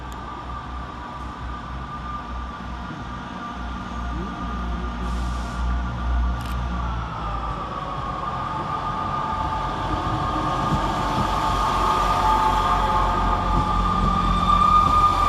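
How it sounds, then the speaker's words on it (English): Class 158 Northern diesel unit pulling out of Bradford Interchange station, a steady engine drone with a rising tone that grows louder and rougher as it accelerates, heard alone. "Another 158 departed is 158786 with the 1336 Northern service to Huddersfield."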